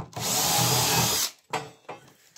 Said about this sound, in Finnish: otetaan popniitti terää ekana, millä vetästään alkureijat